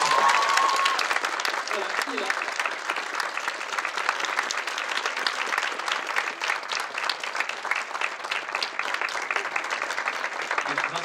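Audience applause at a French conference with the Lord of the Rings voice cast as voice actor Vincent Ropion arrives: dense, sustained clapping from a crowd filling the room, with a brief voice heard over it.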